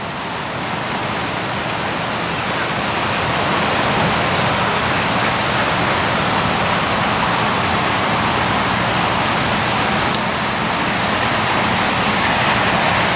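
Heavy rain pours steadily, a dense, constant hiss of water striking surfaces throughout, with no voices.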